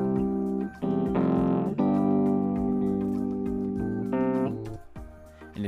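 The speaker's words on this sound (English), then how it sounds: "I have a couple measures or four measures of a piano," Piano loop of four measures playing in Logic Pro X, with sustained chords and shifting notes at moderate volume, close and clean with no talking.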